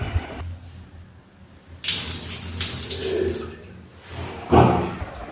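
Water splashes and gushes in bursts, poured into a kitchen sink, with gurgling and a brief louder splash near the end.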